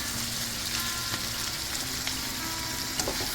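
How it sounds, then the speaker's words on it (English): Eggs frying in a hot pan for Cajun Asian fried rice, a steady close sizzle with a faint hum underneath and a few light clicks of a utensil, continuous and without talk. "And next, we add our eggs."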